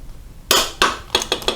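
A torque wrench with an extension tightens the rear drive nuts on a 1983 BMW R100RS motorcycle, giving about five sharp, close metallic clicks in quick succession after a quiet start.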